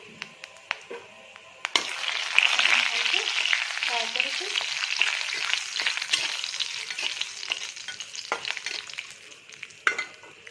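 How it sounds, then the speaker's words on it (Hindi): Cumin seeds and bay leaf hit hot oil after dried chillies, and a sudden loud sizzle and crackle bursts up and stays busy. Sharp utensil knocks open and close it. Nobody speaks during it. "एबे मु जीरा पकाउची तेजपत्र पकाउची"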